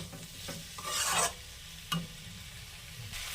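Ridge gourd and potato curry with poppy seed paste is stirred in a pan, with a few short, close scraping bursts over a faint background sizzle.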